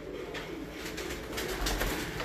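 Pigeons coo at a flying-squad loft in Sialkot, a soft steady murmur of several birds close by with a broadband wash of outdoor noise and no talk.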